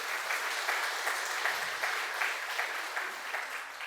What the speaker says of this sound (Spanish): Dale un fuerte aplauso al Señor si lo crees de corazón